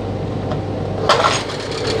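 Low background hum, then a short mechanical whir and rattle as the recoil starter pull cord of a Chinese 9.8 hp outboard boat motor winds back into its housing.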